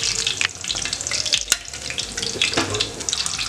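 Potato pakoras fry in hot oil on a low-medium flame, a steady crackling sizzle with occasional stirring clatter and a sharp clink, close and continuous with no talking.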